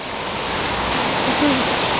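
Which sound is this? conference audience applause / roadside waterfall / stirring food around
roadside waterfall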